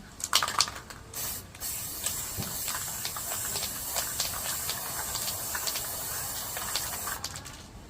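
Blue spray paint hisses from an aerosol can onto a PVC pipe in close, sustained bursts, the spray running almost unbroken after a few short puffs.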